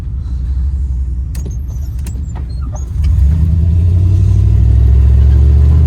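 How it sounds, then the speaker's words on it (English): A modified 1996 GMC K1500 Sierra 4x4 pickup engine and muffler exhaust rumble close by, with a few clicks early on before the deep exhaust note swells louder at about three seconds and holds steady. "I like the sound of this muffler a lot."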